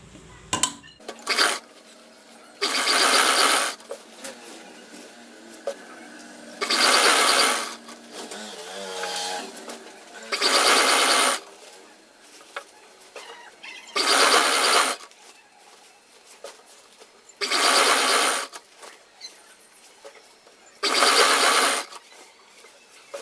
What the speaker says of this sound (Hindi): तो हमें क्या करना है, यहाँ पर सिलाई लगाना है।